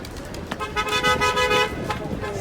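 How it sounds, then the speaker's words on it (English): Car horns honk back and forth in busy city traffic, loud and close, several overlapping toots of different pitches over idling engines and street noise. "So it's a honking war now?"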